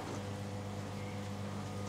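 A repurposed salad spinner with a rewired motor and gearbox runs as a steady, even mechanical hum and whir, close and continuous, used for drying lettuce for market.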